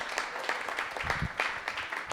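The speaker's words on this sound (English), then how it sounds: "can we give a round of applause for everyone who's running?" Applause from an audience at a Burlington Wards 2 & 3 neighborhood planning assembly meeting, a steady patter of many hands clapping for about two seconds, moderately loud with some thicker low thumps midway.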